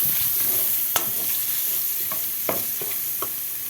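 Pepper paste is stirred in a frying pan, giving a steady, close sizzle broken by several sharp scrapes and taps of the utensil against the pan.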